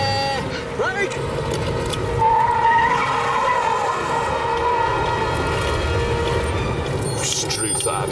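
An eight-ton Cadillac brakes hard from about 50 mph, its tyres skidding with a sustained squeal over a heavy engine rumble, while voices are heard throughout.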